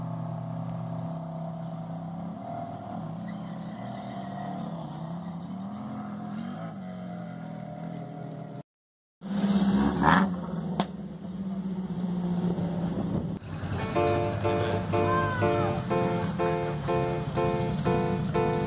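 Classic rally cars of the Tour Auto 2016 climb the col de la Machine in the Vercors, engines droning steadily, a brief gap, then louder close passing revs with a busy, layered engine rumble.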